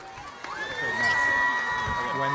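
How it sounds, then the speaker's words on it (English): A crowd at the 2025 Edmonds Woodway High School graduation ceremony cheers and shouts, the noise swelling from moderate to loud with whoops and a sustained high cry over the general din. "When the cheering starts."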